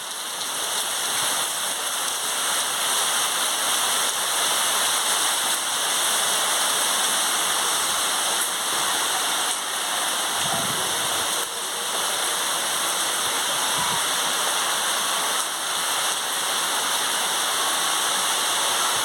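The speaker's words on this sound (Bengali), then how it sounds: "দেখুন এই দুপুর থেকে প্রচণ্ড বৃষ্টি শুরু হয়েছে।" Heavy rain pours during Cyclone Yaas as a dense, loud, unbroken hiss of falling water that holds steady throughout, with no voices.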